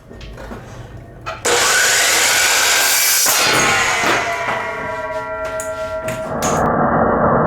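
A miter saw in a woodturning shop spins up and cuts through wood with a sudden loud whine and grinding rasp that holds for several seconds before the blade winds down, very close and dominant.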